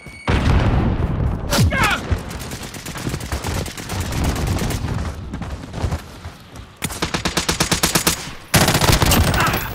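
Hostile gunfire in Call of Duty: Modern Warfare: loud, dense automatic bursts and heavy booms that overlap in rapid rattling volleys, with a voice heard partly among the shots.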